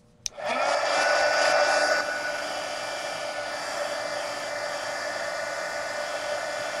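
A hair dryer blows on a freshly painted watercolor page of an adult coloring book, switching on with a click and roaring steadily at close range, louder for the first two seconds and then settling into a continuous whooshing drone.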